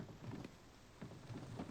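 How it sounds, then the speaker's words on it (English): Light rain beginning to fall in the survival game The Infected, a soft continuous patter with faint low rumbles, quiet and even throughout. "Looks like it's starting to rain"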